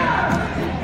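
Indistinct crowd murmur and shouting at a public speech, a dense, loud wash of voices lasting under a second.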